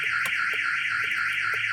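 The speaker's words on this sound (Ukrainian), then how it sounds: "включається сигналізація, коли появляється живлення" A 2007 Volkswagen T5 2.5 TDI van's alarm beeps steadily as ignition power comes on, a rapid repeating electronic tone, loud and close, with faint clicks underneath and no speech.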